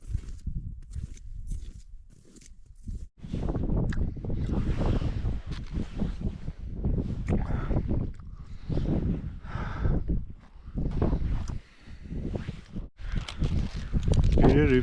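Strong winter wind on a high mountain ridge in the Western Tatras near Kopa and Giewont batters the microphone in uneven, rumbling gusts, with a person talking and footsteps through much of it.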